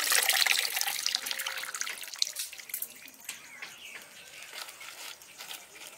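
Poi greens being washed under running water, a steady close splash and trickle from a tap that is strongest at first and then settles into a lighter, continuous flow, with no talking.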